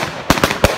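Firework cake discharging during 4th of July celebrations, three quick sharp cracks in a row, fairly near and loud against a steady hiss.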